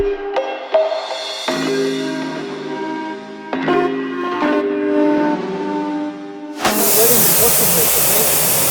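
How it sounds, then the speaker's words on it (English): A hissing water spray rinses soap off a car, starting steady under a tonal, musical background and then surging into a loud, close, broadband blast near the end. "So we're going to rinse the soap off"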